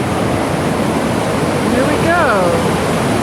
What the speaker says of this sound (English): this is a good-sized river